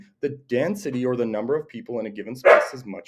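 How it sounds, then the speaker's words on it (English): A pet dog named Finley gives a single sharp bark close by, cutting in partway through a man's ongoing speech. "That was my dog"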